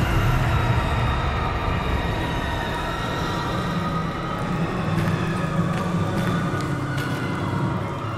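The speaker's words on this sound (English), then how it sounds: "the trains!" Trains rumbling past in the horror video game Golgotha, a steady, loud rolling roar with metallic rail screeches and clanks across the upper range, continuous throughout with no talking.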